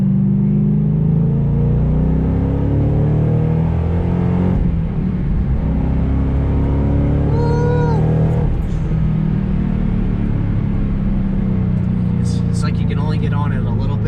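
Engine of a 2014 Shelby GT500 pulling hard through second and third gear, a loud continuous low drone with shifting harmonics and a brief dip near mid-run, with talk over it.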